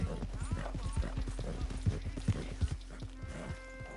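In the Red Dead Redemption 2 video game, horse hooves clip-clop in a steady walking rhythm, close and moderately loud, with a short whinny and faint ambient background under it.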